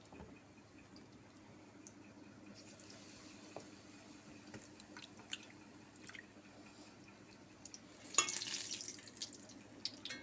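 Eggplant fritters (beguni) coated in a salt, turmeric and chili batter frying in a pan of oil, giving a soft steady sizzle with scattered pops and a louder crackling burst near the end.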